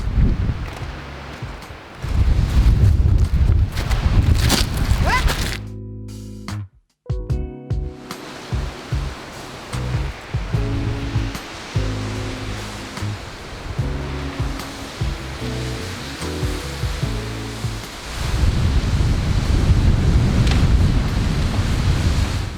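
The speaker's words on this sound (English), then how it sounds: "so we've reached this waterfall" Rushing water of a waterfall at Tongariro National Park, New Zealand, a steady broadband roar close by that drops out briefly near the middle before returning loud.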